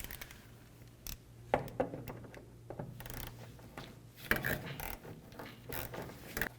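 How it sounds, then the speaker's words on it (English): Hand tools loosening the hose clamp on the fuel inlet tube at the gas tank of a 2007-or-later Toyota Tundra, with scattered metallic clicks, scrapes and ratcheting taps at close range. "We need to loosen that clamp and then lift this tube right up and off of the gas tank."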